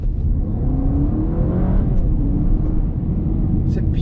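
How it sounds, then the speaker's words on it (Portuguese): A Honda Civic hybrid's engine revs up loudly as the car accelerates, a steady rising drone with a sweeping pitch climb midway, close and continuous, with a voice talking over it. "o motor, quando você acelera assim, ele tá gerando um monte de energia, então ele fica acelerado"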